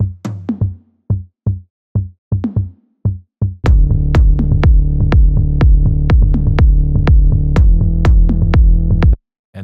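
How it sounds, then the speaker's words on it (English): Toms group from an Afro House track, a sparse run of short pitched tom hits that gives way to a dense, sustained rhythmic pattern of booming tom strikes layered with a tonal bed, played alone without talk. "Tom's group sounds like this."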